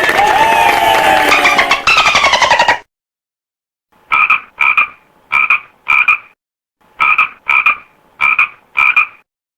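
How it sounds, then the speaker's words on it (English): A frog croaks in a loud, close series of short rhythmic pulses grouped in bursts with brief gaps, heard alone after a fading earlier animal call. "Frog."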